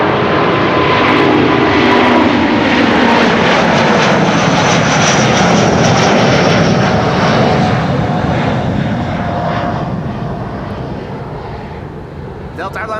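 Delta Airlines Flight 143 to Seattle roars past at Amsterdam Schiphol Airport, its jet engines making a loud, sustained rushing drone that slowly fades toward the end, with a voice talking over it.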